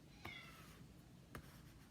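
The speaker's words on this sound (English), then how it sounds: "That's a kitty cat in the background if you hear it." A cat meows twice somewhere in the background, two short faint cries about a second apart in an otherwise quiet room.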